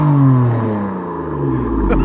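A BMW M4 fitted with an M Performance exhaust revs loudly up close, the engine note sweeping and falling across a couple of seconds with a deep throaty rumble.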